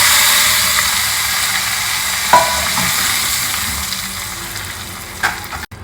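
Tamarind extract goes into a hot pan for tamarind rice, producing a loud, steady close sizzle and hiss that slowly eases, with a couple of light utensil clicks and no speech.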